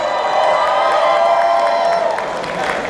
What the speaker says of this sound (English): I just heard you cheer for Captain America